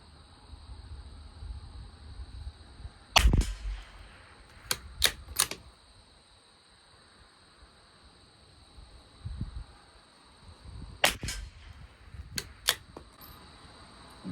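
Rifle shots from a Tikka T1x firing Aguila Rifle Match ammunition at a 50-yard test, sharp separate cracks in two small clusters with quiet gaps between, no talking.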